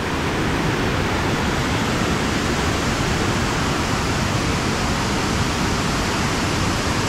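Continuous broadband roar of Ramboda Falls in Sri Lanka, dense and steady like rushing water pouring down nearby, with no voices.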